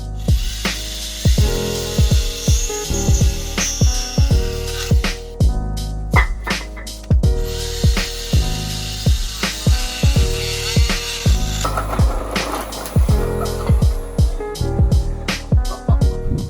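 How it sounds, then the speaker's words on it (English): A Sawzall reciprocating saw cutting through 2x4 lumber, loud and close, with repeated bursts of rapid buzzing strokes and short pauses between cuts. "We don't have a circular saw right now, so we're just gonna go ahead and use the Sawzall."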